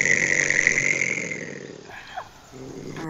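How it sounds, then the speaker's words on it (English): An angry possum growls in a steady, rasping rumble with a hissing edge, fairly close and loud for about two seconds, then breaks off into brief quieter snorts and a softer trailing growl. "So that sound was a very angry possum"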